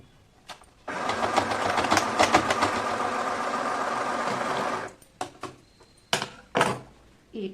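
An electric sewing machine stitches petticoat fabric in a loud, rapid, continuous whirring run of about four seconds, followed by short bursts and clicks as the fabric is adjusted.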